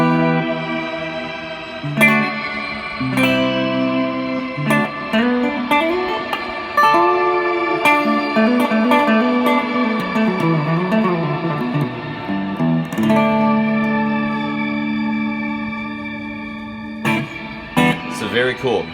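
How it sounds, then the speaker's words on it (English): An electric guitar plays sustained chords through a Meris Mercury7 reverb pedal set to shimmer, with pitch-shifted upper octaves blooming into a long, lush wash that rings between strums. "Now let's put the pitch vector on the shimmer setting."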